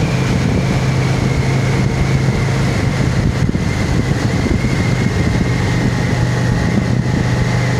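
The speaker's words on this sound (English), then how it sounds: "Very deliberately didn't turn off the engine." A car engine idles in a roadside lay-by on the A590. The low, steady rumble runs the whole time without any change, and no one speaks.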